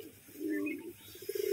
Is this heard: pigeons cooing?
yes